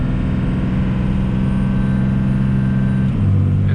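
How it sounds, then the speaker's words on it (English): A Cummins 24v diesel engine in a truck with a 47RE transmission drones steadily and loudly under throttle, its pitch dropping near the end as it shifts. "Adding more throttle."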